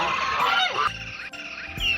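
Cartoon sound effect of farm ducks, loud nasal honking quacks repeated in quick, close bursts.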